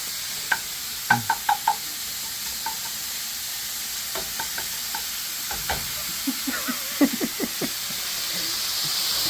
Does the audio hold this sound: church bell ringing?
no